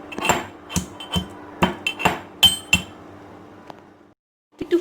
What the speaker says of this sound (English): Take 3 to 4 cardamoms and grind them.